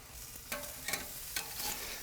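Steaks and shrimp sizzle quietly on a hot grill, a soft, low hiss with a few brief clicks and taps as the food is flipped and handled.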